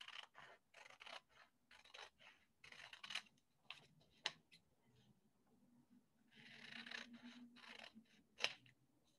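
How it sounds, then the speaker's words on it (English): Scissors snip through paper for a watercolor collage, cutting along a drawn line in a quick series of short crisp cuts and rustles, close and fairly quiet, with no talking. "And we're just cutting that paper away."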